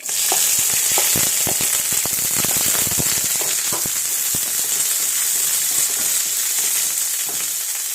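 Onions sizzle in a pan for kappa masala, a steady loud hiss peppered with sharp crackles and pops, with no talking.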